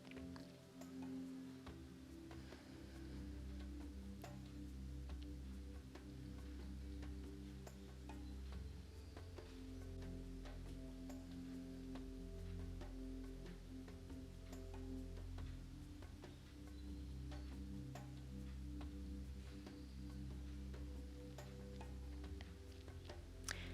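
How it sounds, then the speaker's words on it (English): A clock ticks steadily and evenly throughout, faint and close, over a quiet low hum. "Maybe it's a clock ticking."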